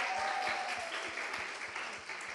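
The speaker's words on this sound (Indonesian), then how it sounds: "tepuk tangan buat kalian sekalian." Students at the opening worship service of a national student conference applaud in a short burst of many hands clapping that fades slightly toward the end.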